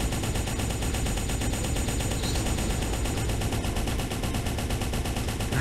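Rapid automatic gunfire from a mecha's weapon in the M.A.S.S. Builder video game, a dense unbroken burst emptying a full magazine, loud and continuous from start to end with no talk.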